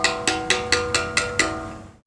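A Tuscan sculptor hand-carves stone: seven evenly spaced, ringing mallet-on-chisel blows sound close and clear, then the last one fades into quiet.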